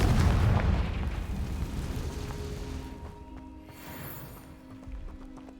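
A Confringo fire spell explodes in the video game Hogwarts Legacy, a loud booming blast that rumbles and fades over several seconds, with faint clattering debris and game sounds trailing after.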